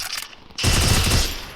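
A sudden, loud burst of rapid automatic gunfire erupts in the mobile shooter game Free Fire, the shots rattling close and continuing briefly before easing off.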